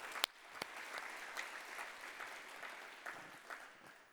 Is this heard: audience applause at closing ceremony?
yes